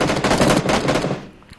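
Loud, close rapid automatic gunfire from the video game PUBG comes as a dense burst of shots that cuts off and fades within about a second.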